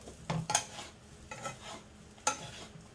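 Cold cooked rice being stirred and reheated in oil in a frying pan, with a few irregular scraping strokes of a utensil over a faint sizzle, quiet and close.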